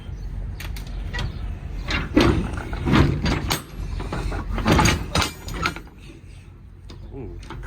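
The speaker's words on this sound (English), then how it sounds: "But I can open this door." A truck door being opened, a series of clunks and latch rattles over a steady low engine or ambient rumble, with someone talking nearby.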